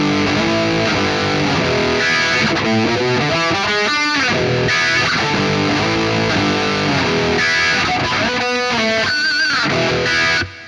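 Distorted electric guitar playing a rock rhythm part through a JCM800-inspired British high-gain amp sim with pedals, with chugging chords and riffs that carry loud and steady throughout before stopping right at the end.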